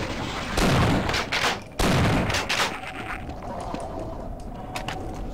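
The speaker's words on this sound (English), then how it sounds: "Shotgun." Shotgun blasts in a Half-Life factory firefight: two loud close booms about a second apart, each followed by a rumbling tail, then quieter clatter and action noise.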